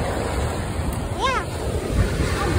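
Ocean surf washes steadily on the shore at Changi Beach, with constant wind buffeting the microphone and a brief vocal sound partway through.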